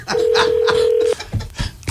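A telephone voicemail system sounds one steady electronic tone lasting about a second, loud and close, followed by faint rustling and brief voice-like murmurs.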